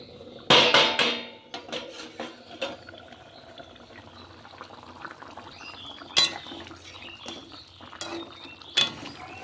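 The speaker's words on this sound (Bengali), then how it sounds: "জল দিয়ে একটু নাড়িয়ে চাড়িয়ে ঢাকা দিয়ে দেবো" A pot of egg curry handled in a kitchen, with a sharp loud metallic clatter near the start and a few softer clinks and knocks spread across a quiet background.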